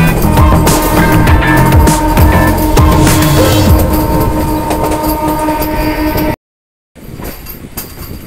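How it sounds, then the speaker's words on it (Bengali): A MEMU passenger train running from Sainthia to Andal rumbles loudly as it enters Andal junction, with steady rail noise and a horn, then a brief dropout before quieter running resumes. "ট্রেন কিন্তু এই মুহূর্তে অন্ডাল জংশন একদম ঢোকার মুখে"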